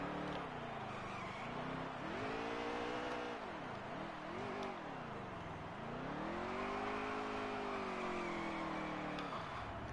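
A racing video game car doing a burnout, its engine holding a loud sustained roar that rises and falls in pitch with revving, continuous for the whole stretch.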